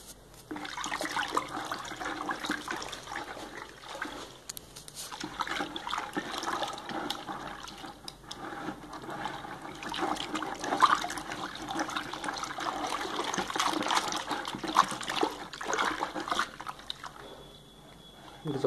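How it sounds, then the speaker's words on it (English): Detergent is swirled and dissolved by hand in a bucket of water, a steady sloshing and trickling that carries on for the whole stretch, close and moderately loud. "So we dissolve some of the detergent in this bucket."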